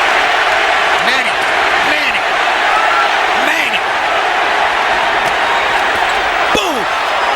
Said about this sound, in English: And the crowd picks up the chant.